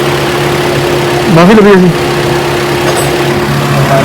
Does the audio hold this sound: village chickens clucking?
no